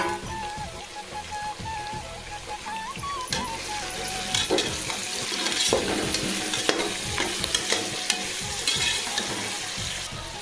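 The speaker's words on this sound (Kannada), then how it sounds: "ಇವಾಗ ತರಕಾರಿ ಚೆನ್ನಾಗಿ ಫ್ರೈ ಆಗಿದೆ." Onions, peas and mixed vegetables fry in a pan for vegetable pulao, giving a steady close sizzle with scraping stir strokes and occasional clinks of the spoon throughout, no talking.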